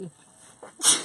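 A single sharp sneeze bursts out near the end after a short intake of breath, close and fairly loud, amid glitter-covered Christmas wreath crafting.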